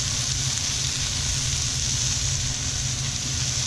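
Pineapple rings sizzling steadily in a hot saute pan brushed with olive oil, a continuous soft hiss with no talking.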